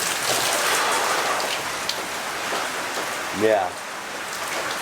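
Heavy rain pouring steadily onto a flooded backyard in Perth, a dense close hiss of drops hitting water and surfaces, with a brief spoken word over it.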